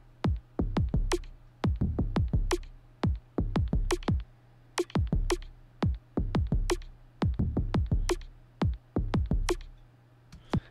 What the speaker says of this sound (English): And together with the kick and snare, it kind of sounds like this.